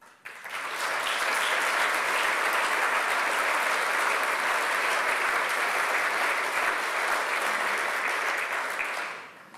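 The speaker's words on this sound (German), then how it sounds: "dass Sie Frau Merkel so viel Beifall spenden, wie Sie es gerade getan haben" An audience at a German political speech breaks into sustained, dense applause that swells quickly, holds loud and even for several seconds, then tapers off at the end, with no voices over it.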